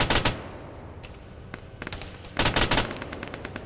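A vehicle-mounted gun fires in a military video game mission, with loud bursts of rapid automatic fire at the start and again near the end, and sparse single shots and distant pops in between.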